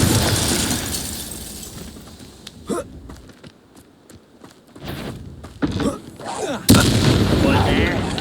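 Explosive blasts from the Confringo spell in the video game Hogwarts Legacy, a series of sharp bursts separated by quieter gaps, ending in a loud sustained crackle, with a voice calling out amid the action.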